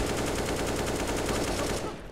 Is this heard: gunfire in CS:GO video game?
yes